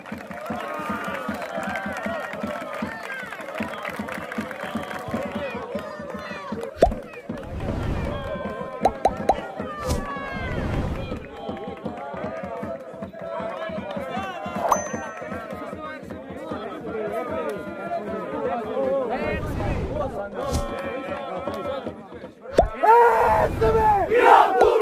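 Football supporters of Real Brasfemes celebrating after a 5-0 win, chanting and shouting together in a loud, sustained crowd din with bursts of cheers and bangs, close and energetic.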